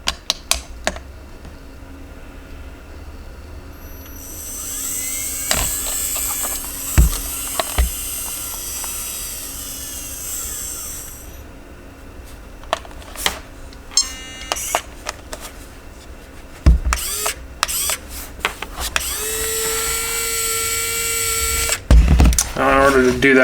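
An RC car winch motor gives a high, thin electric whine in two separate bursts, one long and one short. Clicks and taps come in between, and a person talks throughout.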